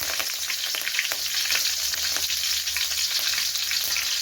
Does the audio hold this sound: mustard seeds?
yes